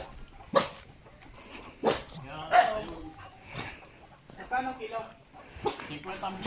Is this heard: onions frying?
no